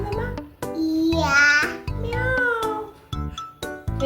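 A young boy imitates a cat, giving several drawn-out, wavering meows in a row, close and loud, with brief adult speech between them.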